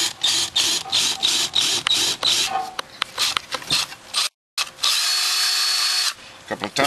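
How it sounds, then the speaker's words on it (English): A power drill with a 1/4 inch bit at high speed whirs in short repeated bursts as it bites into wood, then runs in a longer steady whine after a brief pause. "Drill out your hole first."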